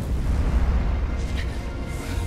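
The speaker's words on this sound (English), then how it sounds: "moments before a giant explosion" A giant explosion in Spider-Man: Miles Morales rumbles as a sustained, dense low boom, a heavy roar that stays loud and steady throughout with no voices over it.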